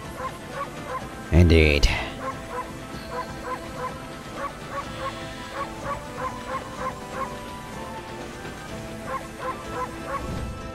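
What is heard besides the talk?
wolf barking in video game Okami HD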